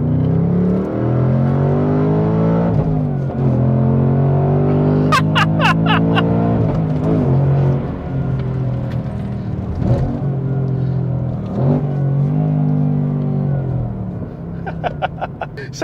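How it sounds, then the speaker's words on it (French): A 2024 Ford Mustang Dark Horse V8 accelerates hard through several gears, its loud engine note climbing and then dropping at each shift, with a few brief high chirps heard up close. "On va faire une autre accélération, tiens."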